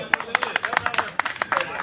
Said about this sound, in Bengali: একটা মহিলা শিল্পীর জন্য একটা জোরদার হাততালি হয়ে যাক।